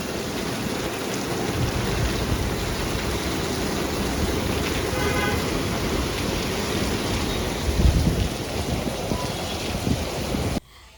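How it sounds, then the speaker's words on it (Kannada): Midday rain with thunder: a steady, dense hiss of rainfall that lasts throughout, with a brief low rumble near the end and no voices. "ಮಳೆನೇ ಸ್ಟಾರ್ಟ್ ಆಗಿಬಿಟ್ಟಿದೆ"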